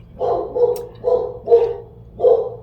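A dog barks four or five times in quick succession, close and fairly loud, with short pauses between the barks.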